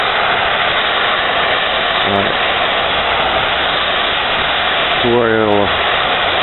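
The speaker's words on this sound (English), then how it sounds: "I'm going to be using one of these propane torches." A propane torch heating a small metal cylinder on a Wheel Horse tractor part, a steady loud roaring hiss that runs unbroken the whole time while someone talks over it.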